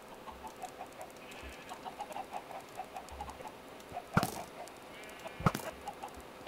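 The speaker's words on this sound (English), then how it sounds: "Too many chickens." Minecraft chickens clucking in a farm, a steady series of soft, rhythmic clucks with two sharper, louder bursts partway through, no talking.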